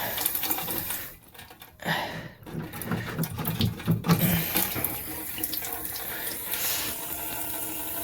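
Water pouring and splashing from a disconnected cold water supply line during a laundry box installation, a steady rushing gush with gurgling surges that dips briefly and then runs on continuously, close and fairly loud.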